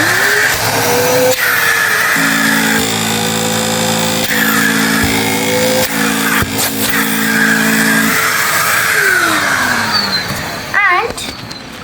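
A Henry vacuum cleaner runs continuously and loudly close by, a steady motor drone with a whining tone that rises and falls as it works, ending with a short burst of rattling and clatter.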